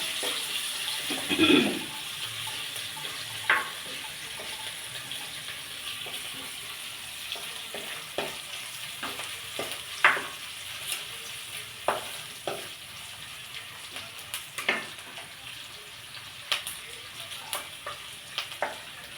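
Onions salted and frying in a pan give a constant close sizzle, with repeated clicking taps and scrapes of stirring over the long stretch.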